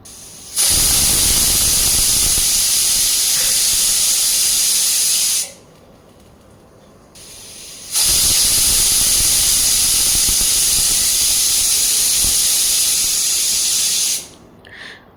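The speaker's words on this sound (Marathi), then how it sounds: "हाय हीटवरती या कुकरच्या आपल्याला फक्त दोन शिट्ट्या करून घ्यायच्या आहेत" Loud pressure cooker on high heat cooking masale bhat, giving two long, steady bursts of hissing, whistling steam with a short quiet gap between them, then a brief trailing hiss at the end; no talking.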